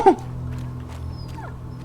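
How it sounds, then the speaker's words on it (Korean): A puppy in the video game A Plague Tale: Innocence gives one short, close whimper at the start, then a fainter whine about a second later, over a low steady ambient hum. "강아지 낑 낑낑대는 소리 들리지?"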